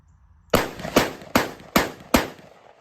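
Mossberg 930 Tactical 12-gauge semi-automatic shotgun firing five sharp, loud blasts in quick, even succession outdoors, each shot followed by a short ringing decay.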